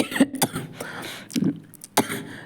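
A few short, harsh coughs or throat clears at close range, spaced irregularly with brief pauses between them.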